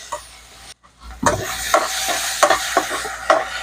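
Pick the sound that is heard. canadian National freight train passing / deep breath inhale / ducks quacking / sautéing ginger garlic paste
sautéing ginger garlic paste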